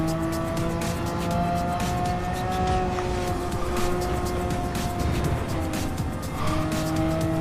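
A Porsche 996 in a racing video game is driven around the Nordschleife, its engine holding a steady high whine that shifts pitch through gear changes, with faint tire noise and no talk.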